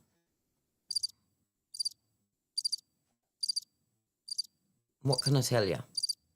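Crickets chirp in short, evenly spaced bursts about a second apart against silence, used as a sound effect, with a voice briefly joining near the end.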